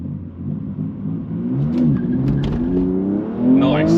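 A BMW with a six-speed manual launches hard off the line in a quarter-mile drag race, its engine revving and climbing in pitch through the run, loud and close, with a gear change partway through.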